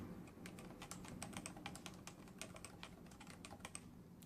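Rapid typing on a CM Storm Novatouch keyboard with Topre switches, a steady run of soft, close keystrokes with muted pops and no voices.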